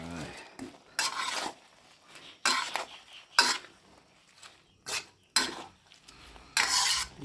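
Holy basil leaves tossed into a shrimp stir-fry in a pan, with repeated bursts of scraping, stirring and clinking against the pan between quieter pauses, close up.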